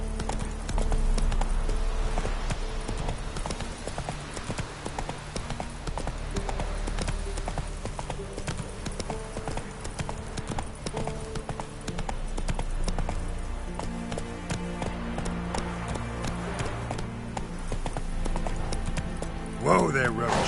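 Roach the horse gallops in The Witcher 3: Wild Hunt, a steady, close rhythm of pounding hooves under game music and a talking voice, with a brief louder accent near the end.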